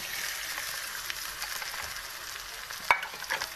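Cut potatoes are stirred in a frying pan with turmeric and salt, producing a steady, fairly quiet sizzle with a soft utensil clink near the end.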